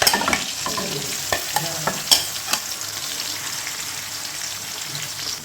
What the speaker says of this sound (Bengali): আমি এই মাংসটাই তেলের মধ্যেই খুব সুন্দর করে একটু নেড়ে চেড়ে একটু সময় নিয়ে আমি একটু ভেজে নেব